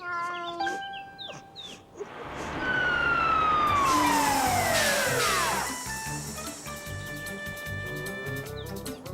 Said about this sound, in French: Caillou était tout excité de voir les pompiers arriver dans leur grand camion rouge.